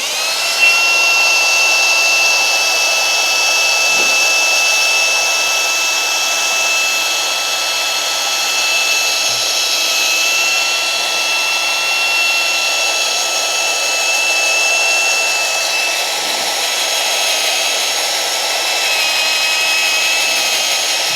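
A drill drives a Matco HyperStep step bit through wood or fiberglass, giving a steady, close whine with a thin high tone held for about twenty seconds, with no talk over it.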